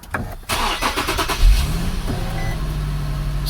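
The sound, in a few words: Infiniti G37 car engine starting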